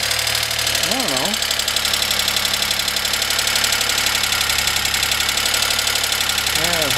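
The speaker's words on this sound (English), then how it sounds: "hopefully that lifter's gonna quiet down a bit" Geo Convertible engine idling with a clicky lifter after a first start, a steady close mechanical rattle and tick over a low hum, with brief voice-like wavering tones near the start and end.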